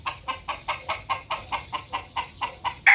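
A young gamefowl bullstag rooster clucking close by, a rapid regular series of about a dozen short clucks ending on a louder call.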